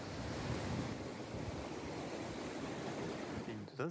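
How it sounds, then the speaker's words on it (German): Rain falls while a strong current of water rushes past outdoors. A steady, dense broadband roar carries some wind buffeting on the microphone, and a brief voice cuts in at the very end. "Da hört man da, da regnet es noch. Da sieht man dann auch da unten das Wasser vorbeiziehen."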